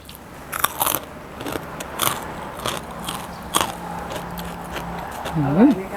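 Crispy pork rinds are crunched and bitten in a home setting, with several sharp crunchy bites spread across the clip and a voice rising near the end.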